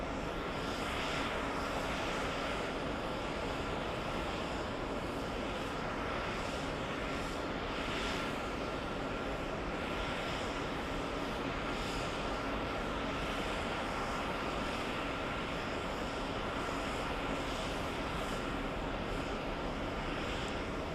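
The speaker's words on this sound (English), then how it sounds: "Let's go for the Captain Canmobile racing down the runway, flying to Los Angeles" A steady, loud roar from a jet airliner as it takes off and races down the runway toward Los Angeles, a broad, constant engine rumble holding for about twenty seconds with no break.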